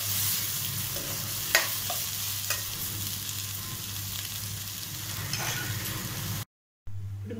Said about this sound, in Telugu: కొంచెం టమాటాలు మగ్గాలి మగ్గిన తర్వాత మసాలా పౌడర్లన్నీ వేసేద్దాము